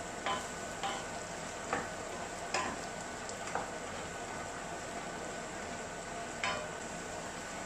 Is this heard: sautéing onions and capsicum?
yes